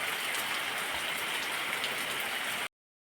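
Steady morning monsoon rain falls continuously, a dense even hiss of drops on surfaces filling the whole clip at moderate level before cutting off abruptly near the end.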